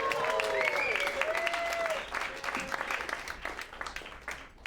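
A comedy club crowd applauds comedian Jessica Larkin at the end of her set, with thick clapping that gradually thins and fades toward the end and a few voices rising under it.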